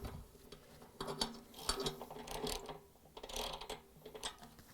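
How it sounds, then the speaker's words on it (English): A 10mm socket wrench ratchets in quick bursts of clicking, close up, while tightening the bolts of a Samsung washer's spider arm, with short pauses between strokes. "now I'm going to tighten them using that 10mm socket wrench"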